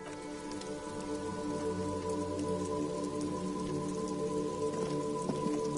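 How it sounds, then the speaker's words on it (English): Steady rain patters on pavement in the video game Disco Elysium, a constant close hiss of drops with no voices. "This rain will not let up anytime soon."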